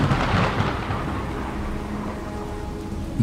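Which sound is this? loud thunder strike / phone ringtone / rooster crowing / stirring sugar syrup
loud thunder strike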